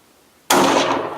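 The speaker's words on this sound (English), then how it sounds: "Good shot!" A single loud, abrupt gunshot goes off during a deer hunt in Texas, bursting out of near silence and then decaying over a broad, rumbling tail.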